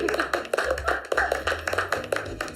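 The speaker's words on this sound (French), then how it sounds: "Applaudissez" Clapping from an audience at a salon's grand opening, a steady patter of many hands at close range with no talk over it.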